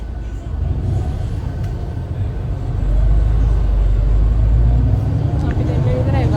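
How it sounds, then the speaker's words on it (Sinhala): Inside a moving bus, a steady low rumble of road and engine noise fills the ride while people talk close by. "ඉතින් අපි බස් එකේ දැන් යන ගමන් ඉන්නේ"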